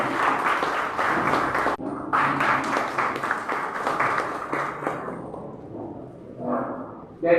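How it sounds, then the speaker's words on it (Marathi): An audience applauds guests at a ceremony honouring retired teachers in Mandrem, with dense clapping that briefly pauses, continues strongly, then tapers off before a short final burst. "जोरदार टाळ्या वाजवून त्यांचं स्वागत करावं."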